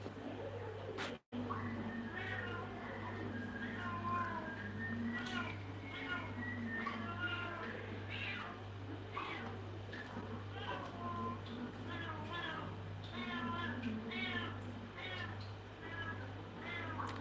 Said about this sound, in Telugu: క్యాట్ అరుస్తుంది మా ఇంటి సైడ్ ఎంత క్యూట్గా అరుస్తుంది